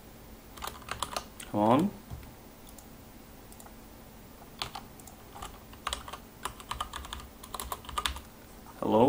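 Computer keyboard typing comes as bursts of quick clicks across the clip, moderately close, with brief spoken words in between.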